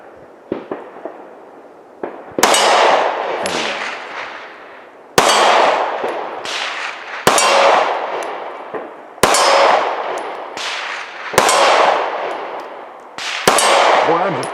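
Rifle bullets strike a steel shipping container at a shooting range, each hit a sharp metallic clang with a ringing tail, about six heavy impacts spaced roughly two seconds apart after a few lighter pops.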